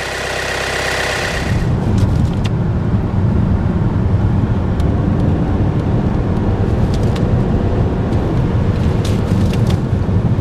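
A car driving on the road with engine bread cooking on the engine, a dense steady roar of engine and road noise with wind buffeting, loud and continuous throughout.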